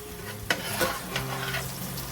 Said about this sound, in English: You're just kind of frying the jalapenos